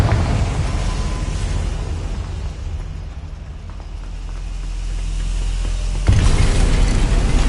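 Rumbling blast from the Confringo fire spell in the Hogwarts Legacy video game, a sustained low roar that dips midway and then surges with a sharp fresh burst near the end.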